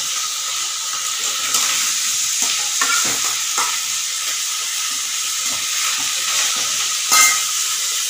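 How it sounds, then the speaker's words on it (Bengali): Cleaned potatoes fry lightly in an Indian wok for a vegetarian banana-flower curry, producing a steady hissing sizzle with occasional stirring scrapes and a brief louder clatter near the end. "এবার কড়ার মধ্যে দিয়ে দিয়েছি, এটাকে একটু ভাজবেন।"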